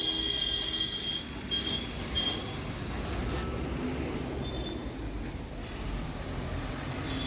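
A number 5 Kolkata tram pulls out of the Shyambazar tram depot with a continuous low rumble on the rails and thin, high wheel squeals near the start.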